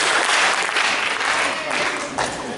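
Graduation audience at Lincoln clapping along to a sung "If You're Happy and You Know It", a loud crowd of hands with a few stronger accented bursts, with some voices mixed in.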